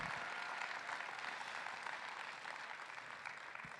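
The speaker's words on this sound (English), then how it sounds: "One more round of applause for the AK guy" A large conference audience applauds in a dense, continuous wash of clapping, fairly faint and distant and holding steady throughout.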